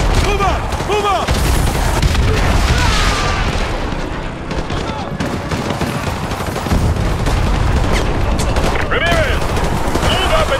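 Sustained suppressing fire from an LAV and infantry guns with explosions in Modern Warfare 2 Remastered, a dense, continuous battle din of rapid bursts and booms, with shouted voices mixed in.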